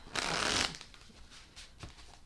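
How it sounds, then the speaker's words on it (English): A burst of tarot card shuffling, a quick riffle lasting about half a second, followed by a few softer taps and rustles of the deck. "let's take a couple of shuffles here"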